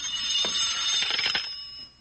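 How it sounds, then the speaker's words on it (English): An old-style telephone bell ringing indoors, a short burst of bright metallic jangling that fades out after a couple of seconds, heard alone without voices. "with the ringing of the telephone"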